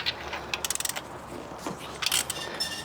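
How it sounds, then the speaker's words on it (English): Ratchet with a 16mm socket loosening spark plugs on a Honda Civic, a quick run of sharp clicks near the start, then a second short burst of clicks, close and fairly quiet against faint background noise. "I'm just going to need this ratchet right here just to break it loose."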